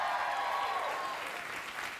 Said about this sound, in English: Please don't let your applause go on too long this evening